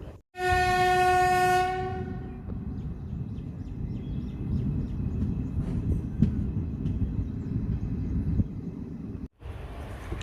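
At Tiruchirappalli railway station, a loud train horn blasts for about a second, then a train rumbles and clatters steadily along the tracks nearby.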